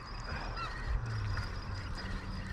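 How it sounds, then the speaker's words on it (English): Swans call on Poole Harbour in the morning, with faint, distant honking over a steady outdoor wash of water and wind. "Load of swans out this morning."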